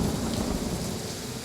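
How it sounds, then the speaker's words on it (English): Heavy rain pours in a huge thunderstorm over a river camp, a loud, dense and steady downpour with a low rumbling undertone and no voices. "A huge storm funnels straight through my camp."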